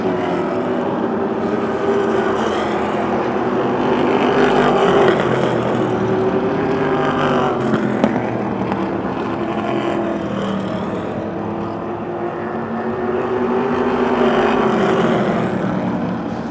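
Race cars roar around the Motordrome Speedway track, engines swelling and fading as a wheel-to-wheel pack passes in a loud, continuous, racing drone.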